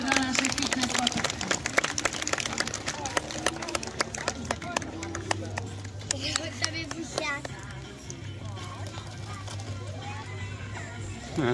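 At a seal show in Poland, an audience claps for performing seals, a burst of busy applause that thins and fades, with a presenter's voice and children's chatter mixed in.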